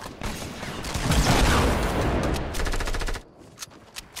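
Rapid bursts of automatic gunfire in a console first-person shooter match played with a squad, loud and dense for about three seconds, then a few sparser isolated shots trailing off.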